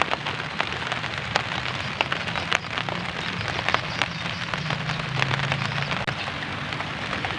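Steady rain falls on a garden bed of spring onions, a dense continuous patter with scattered sharper drops striking close by and no voices.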